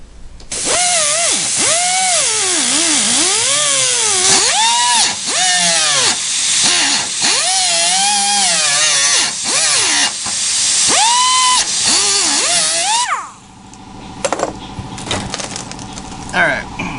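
A power tool loudly whines and shrieks as it cuts out a rusty car quarter panel, its pitch swooping up and down with the load for about thirteen seconds before dropping away to a quieter hiss and rattle.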